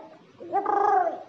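A human voice imitates a pigeon's coo, a single short, throaty warbling call held for about half a second against near silence.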